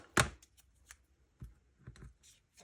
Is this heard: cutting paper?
yes